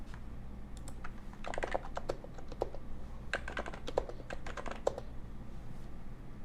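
Quiet bursts of keystrokes on a computer keyboard, typed in short runs with brief pauses, close and clear over a low steady room hum, with no voices.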